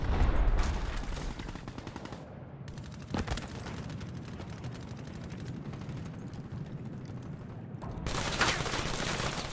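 Gunfire in the video game Black Ops 3 on a DLC map: dense sustained automatic bursts with rattling fusillade texture, loud and continuous with a brief gap near the middle, no voices.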